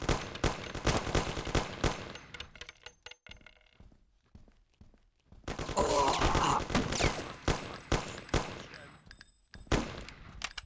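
Bursts of gunfire erupt in the video game Mafia, with rapid rattling volleys and single shots in close, loud clusters broken by a brief quiet gap before the shooting resumes.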